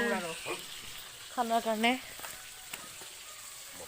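Fish frying in a pan for a Bhogali Bihu feast in Tangla, Udalguri, Assam, gives a soft, constant sizzle under a few spoken words.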